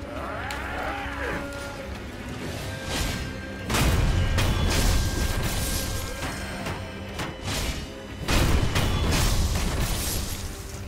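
Heavy axe strikes smashing enemy shields in Sekiro: Shadows Die Twice, two loud broadband crashing impacts about four seconds apart, each trailing off, over game ambience with an animal-like low bellow early on.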